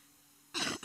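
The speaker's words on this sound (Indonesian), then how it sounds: "Maaf, saya lagi batuk." One short, sharp cough bursts out at a school graduation event after a moment of quiet room tone, loud and close.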